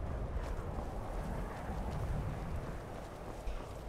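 Horse hooves gallop in Skyrim Anniversary Edition, a dense, rumbling run of hoofbeats filling the whole stretch with little else on top.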